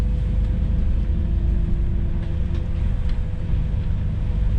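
Steady low engine rumble and road drone inside the cab of an Elektron city bus driving on route 24 in Uzhhorod, with a faint tonal whine and occasional light rattles throughout.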